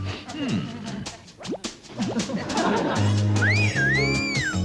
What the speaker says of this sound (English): Are you whistling for me?